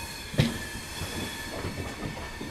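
A train rolls into Secunderabad station, its wheels and wagons rumbling steadily with faint squeals and clicks, heard alone at moderate distance with one sharp knock near the start.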